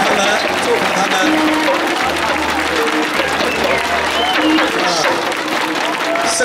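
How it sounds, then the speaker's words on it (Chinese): A large audience at a family-honouring ceremony in Taitung claps in a loud, continuous wash of applause close by, steady for the whole stretch with a few voices rising from the crowd. "我们再次请大家来掌声，再次鼓励他们，祝福他们。"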